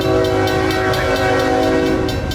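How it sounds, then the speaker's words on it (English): Northbound freight train QO46 out of Tampa in Florida, led by engine 996 and hauling mixed freight, intermodal containers and UPS traffic, rumbles past loud and close with a sustained horn blast over the rolling roar of cars. "QO46 coming out of Tampa with mixed freight and intermodal containers and UPS traffic came around the corner heading north"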